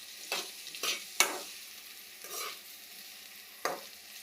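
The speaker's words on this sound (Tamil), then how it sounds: "நல்லா கொஞ்சம் வதக்கி வரட்டும்." Vegetables for fried rice are tossed and stirred in a hot pan, several scraping, sizzling bursts spaced irregularly, close and fairly quiet, with no talking.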